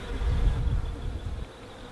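A swarm of about 20,000 honeybees being hived produces a low, dense buzzing hum that swells early and then slowly thins out, heard alone with no voices.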